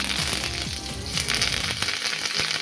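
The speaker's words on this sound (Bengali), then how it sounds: "ফোড়নে দিচ্ছি আমি শুকনো লঙ্কা সর্ষে দিয়ে দিচ্ছি" Dry red chillies and mustard seeds sizzle and crackle in hot tempering oil for a Bihari kadhi, a loud, continuous frying hiss with sharp popping spatters throughout and no talk.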